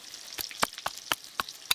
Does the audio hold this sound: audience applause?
no